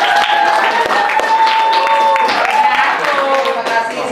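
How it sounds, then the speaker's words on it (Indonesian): A grade 8 class applauds in a classroom, a sustained wash of clapping mixed with overlapping children's voices and calls that stays fairly loud throughout. "beri tepuk tangan"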